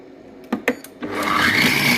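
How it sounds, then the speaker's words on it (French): A food processor with its lid on runs a chopping program: a few sharp clicks come first, then the motor starts a steady, fairly loud whirring that grows denser and continues to the end. "Je vais prendre mon beau couvercle et je vais tout hacher. Donc je vais mettre le programme haché."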